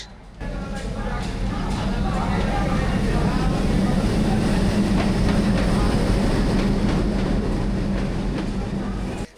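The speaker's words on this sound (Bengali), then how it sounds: "যাত્রার বাহন হিসেবে আছে খুলনা থেকে ছেড়ে আসা কপোতাক্ষ এক্সপ্রেস ট্রেন" The Kapotaksha Express from Khulna at Chuadanga railway station: a steady, loud rolling rumble with faint rhythmic clatter, sustained for several seconds, with a murmur of voices underneath.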